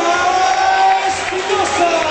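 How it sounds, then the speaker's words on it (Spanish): A boxing crowd at a Santiago del Teide boxing night cheers and applauds boxer Jonathan La Roca, a loud, continuous roar of voices and whoops with some clapping throughout. "Fuerte el aplauso para Jonathan La Roca"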